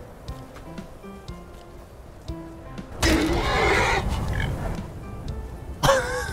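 An undead horse from the video game Skyrim gives a loud, rough neigh lasting about three seconds, then a brief second whinny near the end, set against quiet game ambience.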